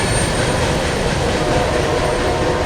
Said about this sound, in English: And there goes CSX F741.